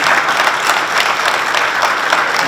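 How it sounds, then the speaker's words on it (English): An audience applauds a panel at a conference. The clapping is dense, loud and close, and it holds steady as an unbroken wash without speech for the whole short stretch. "ladies and gentlemen, a round of applause for these fantastic guys."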